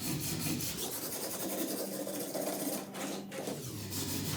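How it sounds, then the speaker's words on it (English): A brush scrubs charred shou-sugi-ban wood against the grain, a close, loud, continuous rasping rub with rhythmic back-and-forth strokes. "Make sure it's a nice even scrub."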